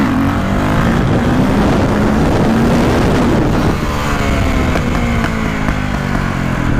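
A street-legal dirt bike holding a long wheelie, its engine loud and close, droning at steady revs that then drop and shift while wind roar stays constant throughout.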